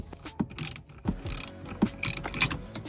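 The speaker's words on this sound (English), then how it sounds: "what I have here is a 10mm deep socket on a 3/8 ratchet, 3-inch extension. And I'm just gonna tighten it." A 3/8 ratchet with a 3-inch extension and 10mm deep socket turns a Subaru parking brake adjuster, giving bursts of close, crisp pawl clicks in short uneven strokes with small mechanical knocks between them.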